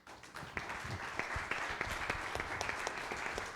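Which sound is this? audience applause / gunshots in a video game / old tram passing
audience applause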